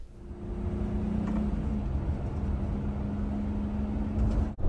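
Steady, smooth road rumble inside a 17-foot Wingamm Oasi 540.1 mini RV cruising on the interstate: a low, even drone with a faint tonal hum, holding level throughout, then a brief dip and thump near the end.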